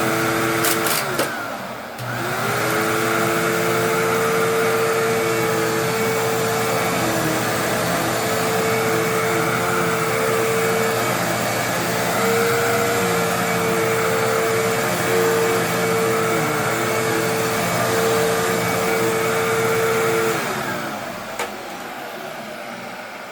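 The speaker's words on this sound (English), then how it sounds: "I think both vacuum cleaners actually fared out well." A bagless upright vacuum cleaner runs through a mess test with a steady, loud motor whine. It starts up after a brief clatter, holds a constant drone for about twenty seconds, then cuts off.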